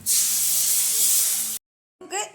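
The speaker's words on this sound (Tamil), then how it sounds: "இந்த சமயத்தில் நம்ம புளி கரைச்சி வச்சுருந்தா கரைசலை ஊற்றிக்கிடுவோம்." Tamarind water is poured into hot sizzling masala for a lentil-ball kuzhambu, setting off a loud, steady steaming hiss. It cuts out, and a brief voice follows.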